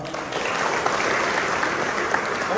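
A crowd of fishing-community villagers at a meeting about bridge-project compensation claps loudly and continuously, a dense, even roar of applause that holds at full strength throughout.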